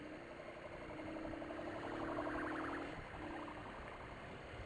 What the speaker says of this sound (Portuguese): Tá esperando a ambulância passar.